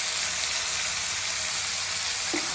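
Potatoes and chickpeas fry in a pan, giving a steady, close hiss of sizzling oil that runs unbroken throughout with no talk.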